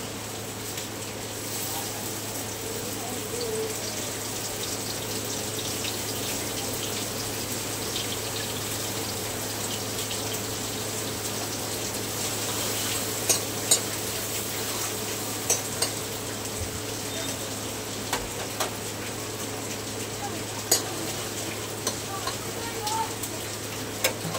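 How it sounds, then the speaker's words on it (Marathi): Onion dropped into hot oil in a pan for chicken curry, frying with a steady continuous sizzle, with a few sharp ticks and stirring knocks scattered through the latter half. "तेल गरम झालेलं आहे, कांदा टाकून घेतो"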